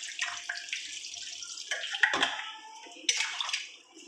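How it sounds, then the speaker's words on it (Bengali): Water is poured into a pan of sautéed vegetarian mixed-vegetable curry with lentil fritters, a close, loud gushing splash and sizzle that surges in two bursts before fading, with no talking. "তরকারিটা কষানো হয়ে গেছে, এবার আমি জল দিয়ে দিচ্ছি।"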